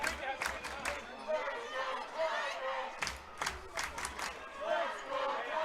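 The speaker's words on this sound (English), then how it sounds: "the crowd is waking up." Crowd at a university men's volleyball regular-season game against the UNB Reds rises in rising cheers and shouts, swelling in two bursts under a commentator's steady play-by-play.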